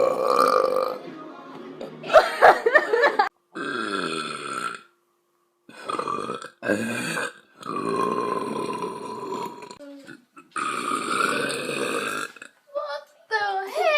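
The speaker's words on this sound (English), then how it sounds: "burp." A woman's burp during a rowdy party after a beer bong, loud and close, with several voiced belch-like bursts across the clip amid shouting and talk from others nearby.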